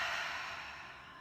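A slow, deep exhale during a relaxation breathing exercise, a soft breathy rush heard close and alone that gradually fades over about a second.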